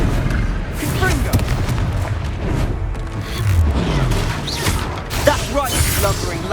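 Booming blasts from the Confringo fire spell in the Hogwarts Legacy video game, repeated explosive thuds and crashes amid chaotic battle effects, with voices talking over them.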